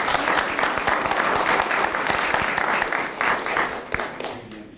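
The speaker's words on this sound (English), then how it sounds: "if we could all, one last round of applause." An audience at a school board meeting claps in loud, dense applause that holds steady and then fades toward the end.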